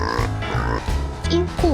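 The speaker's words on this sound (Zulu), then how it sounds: "Ingulube." A pig grunts and oinks in a brief, loud, close burst, set among cheerful background music from a children's animal lesson.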